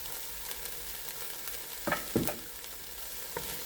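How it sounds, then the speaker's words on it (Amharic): Onions and carrots frying in olive oil in a home kitchen for a vegan chili, a steady close sizzle with a few louder stirring scrapes near the end. "ከዛ በኋላ በሱ ደግሞ አብሬ አበስለዋለሁ ሽንኩርቱና ካሮቱን ብቻ።"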